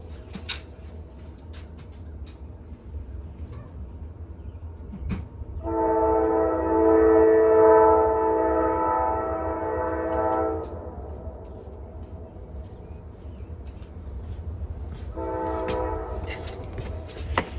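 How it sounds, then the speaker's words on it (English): A train rumbles steadily past in the background, its horn blaring in two long blasts, the second shorter, with no talking. "look past the train going by in the background"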